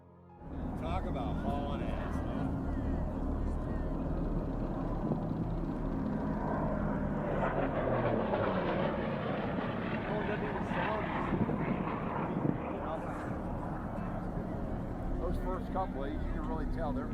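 A modified P-51D Mustang warbird races at high speed, its continuous engine roar swelling and shifting throughout. Voices talk over it.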